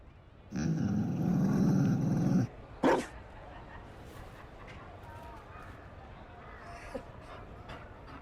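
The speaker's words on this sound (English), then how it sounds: "You found a dog? They don't breed Mabari in Orlais." A Mabari war dog in Dragon Age Inquisition gives a low, rumbling growl lasting about two seconds, followed by a short bark, then a quieter background with faint ambient sounds.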